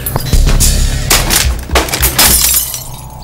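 Loud, dense bursts of gunfire from an action film, rapid cracks with a harsh, shattering edge that come in clusters over a busy soundtrack, close and forceful.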